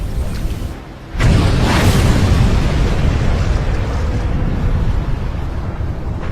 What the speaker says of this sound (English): Before slipping beneath the surface, her powder magazine detonates.